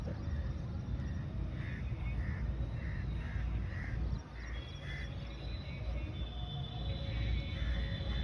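Crows cawing repeatedly at a distance, in a regular series of short calls over loud, steady outdoor background noise, with people talking faintly.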